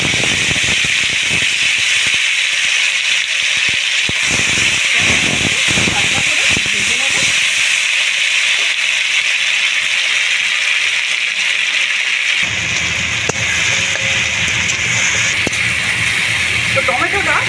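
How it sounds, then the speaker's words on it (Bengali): Chopped tomato dropped into hot oil left from frying fish, giving a loud, steady, close sizzle and hiss that continues without a break and gains a deeper bubbling edge partway through. "মাছ ভাজার ওই তেলের মধ্যে দিয়ে দেবো আমি টমেটো কুচি।"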